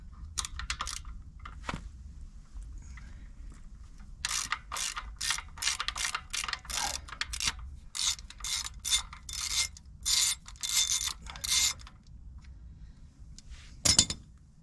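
Repeated ratchet clicking while removing a bolt from a dual drum vibratory roller, in bursts of rapid ratcheting with short pauses, close and fairly loud over a low background rumble.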